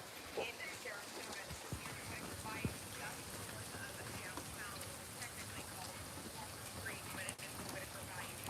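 Steady rain falls during Hurricane Milton in Orlando, a dense, continuous hiss of drops with faint background voices and occasional louder splashes and knocks throughout.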